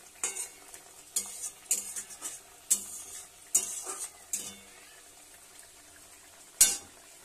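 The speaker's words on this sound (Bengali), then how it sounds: "মাছগুলো দিয়ে দিয়েছি, ঝোলটা ফুটতেছে টকবক করে একদম" Rohu fish in poppy-seed gravy simmers in a pan, with a low bubbling hiss broken by several sharp utensil taps and scrapes at irregular intervals, close and fairly quiet.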